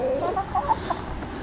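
Chickens cluck softly and continuously in a fruit garden. The brief, close murmuring calls sit over a light outdoor background.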